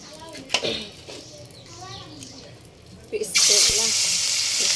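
Dried river fish hits hot oil in a well-heated wok and erupts into a loud, sustained sizzling hiss partway through, after a stretch of quiet kitchen sounds and someone speaking nearby.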